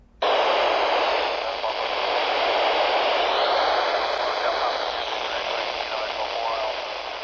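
Amateur radio static from an AO-92 satellite pass in a backyard, a steady loud hiss of white noise that switches on abruptly and holds throughout with faint sweeping tones beneath.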